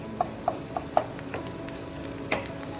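Eggs fry and are stirred in a pan: a soft, steady sizzle broken by four or five light utensil scrapes and taps, close by and fairly quiet.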